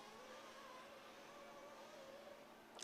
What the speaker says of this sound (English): So you can hear the cars warming up in the background.